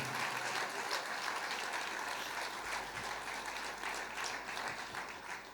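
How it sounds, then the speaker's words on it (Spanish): Steady applause from a church congregation praising God during a sermon service, a continuous dense clapping texture at moderate distance that holds evenly throughout without voices. "Fuerte ese aplauso de alabanza al Señor"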